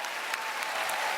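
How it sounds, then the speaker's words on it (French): A comedy gala crowd applauds for the television host Éric Salvaille, a brief, dense burst of clapping from a large audience, with no voice over it. "Applaudissez-le."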